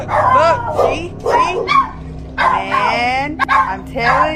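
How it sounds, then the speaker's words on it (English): Dogs bark in a series of loud, close bursts with a whimpering yip in between, the barking coming in uneven clusters while a voice talks alongside. "Ignore my dogs."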